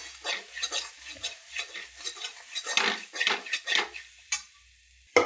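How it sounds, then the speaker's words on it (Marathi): A spoon stirs pavta bean curry in a pan, producing scraping, clinking strokes against the metal over a soft sizzle, close and steady, ending with a sharper knock. "आता परत हलवायचं आपल्याला."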